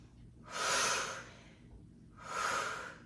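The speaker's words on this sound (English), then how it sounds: "Inhale, exhale, inhale, exhale." Two heavy, close breaths, each about a second long with a short pause between, from a person doing chair push-ups in a chair fitness workout; no talking.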